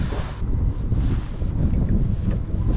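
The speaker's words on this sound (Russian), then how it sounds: "Сегодня ветрено" Wind buffets the microphone at Lake Liepāja in late autumn in a low, rumbling roar that gusts steadily throughout, with faint water sounds beneath and no speech.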